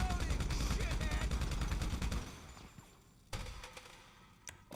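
Rapid bursts of video-game gunfire crackle loudly for the first couple of seconds, then give way to a few isolated shots and thumps in a PS5 shooter session.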